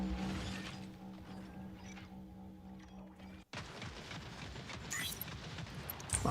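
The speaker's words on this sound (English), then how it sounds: "Explosion." An explosion in the mech combat video game Mech Arena: after a humming mechanical drone, a sudden crash cuts in, followed by noisy blast debris and rumbling battle clatter.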